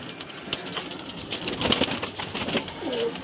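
Punjabi pigeons kept for a home pigeon sale coo softly and repeatedly at close range, with a faint rustle of wings in a quiet setting.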